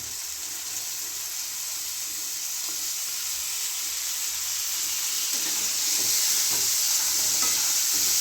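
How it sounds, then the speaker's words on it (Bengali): Soaked masoor dal being fried with spices in a pan gives a steady, moderate sizzle with faint stirring scrapes, swelling slightly louder toward the end, with no voices. "আমি মুসুর ডালটাকে মশলার সাথে একটু কষে নেবো"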